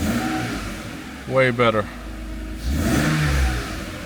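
A Mercedes R129 engine with a freshly adjusted airflow sensor harness swells into a brief rev at close range, then drops back to a steady idle, with someone talking over the start and again near the end.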